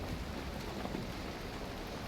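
Drizzling rain in Valheim patters as a steady, soft hiss with a faint low rumble beneath, even and continuous for a couple of seconds, no voices.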